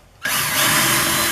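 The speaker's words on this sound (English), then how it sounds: "So we just drill our holes" A power drill bores holes in a table saw jig. After a brief quiet moment it starts abruptly, then holds a loud, steady, close-up whirring whine to the end with no talking.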